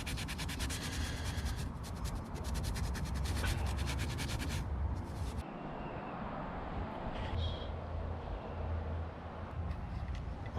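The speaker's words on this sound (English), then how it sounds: "I'm gonna work this with a pad so this doesn't happen again. Green Scotch-Brite pad." Green Scotch-Brite pad rubbed over a front fender on an S14 car being fitted with wider fenders, a harsh continuous scrubbing rasp in long strokes, close and loud, with no talking.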